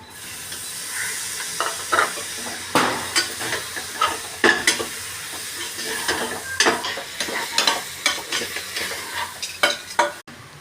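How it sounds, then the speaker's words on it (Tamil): Chopped tomatoes go into a spiced chili masala for chicken biryani, sizzling and frying in a pan while being stirred repeatedly, with scraping and clinking of a spoon against the pan throughout. "தக்காளி கட் பண்ணி வச்சுருக்கோம்ல அதை போடலாம்."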